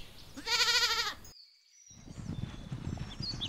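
A goat gives one loud wavering bleat, close and alone, lasting about half a second, followed after a brief silence by outdoor rustling and faint thuds.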